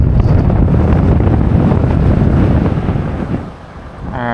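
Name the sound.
strong wind blowing, wind noise on microphone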